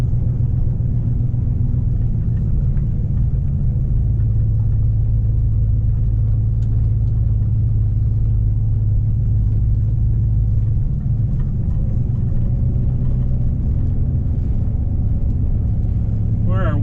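A 1966 Dodge Monaco 500 with a 440 V8 idles after a tune-up with clean plugs, making a continuous deep, even rumble that stays loud and close, while someone talks over it.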